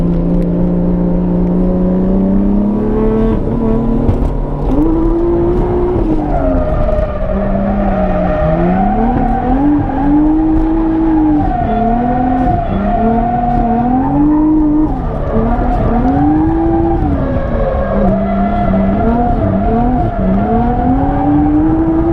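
A SIL80 drift car fitted with angle mods drives hard with its engine droning loud and close throughout, tires squealing in long wavering swoops as it slides through repeated drifts.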